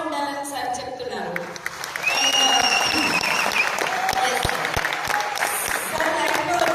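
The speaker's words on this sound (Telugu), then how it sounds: "మన చప్పట్లు చాలా గట్టిగా ఉండాలని సార్ చెప్తున్నారు" An audience at an entrepreneurship development seminar breaks into loud, sustained applause that swells after a quieter start with music-like tones, clapping continuing steadily to the end.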